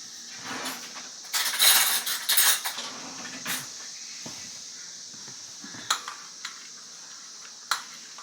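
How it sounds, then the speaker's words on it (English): A metal spoon grabbed from among dishes, a burst of clattering and clinking near the start followed by a few isolated sharp pings and taps, close and otherwise quiet. "let me grab a spoon"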